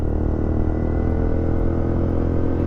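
A small Kawasaki motorcycle engine drones steadily under load on a steep night-time climb near Alice Springs, a close, continuous low mechanical hum without obvious revving.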